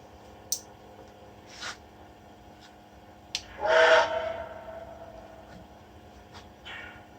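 A model Nickel Plate Road 2-8-4 steam locomotive on a test roller stand, converted to battery power, sounds short steam whistle toots and puffs in a quiet room, with one longer hissing steam burst in the middle.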